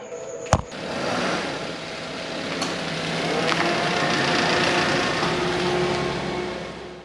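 A 2010 Suzuki Alto with a 3-cylinder 1000cc engine hums steadily with broad running noise, opened by a single sharp click and rising slightly in level partway through.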